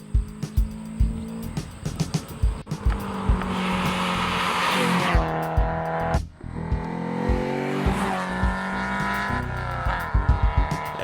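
A Mercedes-Benz 190E 2.3 16v Cosworth four-cylinder revs hard while driving, rising through the gears with rapid throttle blips and sharp downshift barks, a loud, close, continuous engine note with brief dips between shifts.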